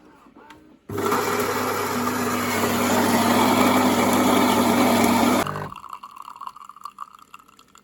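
Home coffee machine brewing an americano, a loud steady pump whir and hum that starts abruptly, runs for about four and a half seconds, then cuts off to quiet kitchen sounds.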